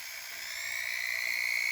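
Foredom flex shaft motor driven to full throttle by its foot pedal, giving a steady high-pitched whine with a slight rise in level, close and alone.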